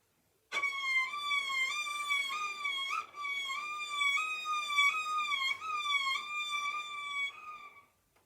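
A voice imitates a seagull with a run of high, wavering squealing cries, repeated several times in quick succession, loud and close.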